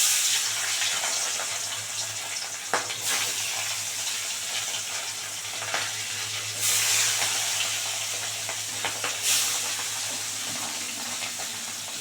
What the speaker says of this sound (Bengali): কড়াই গরম হয়ে গেছে, এবার মাছ দিয়ে দেবো।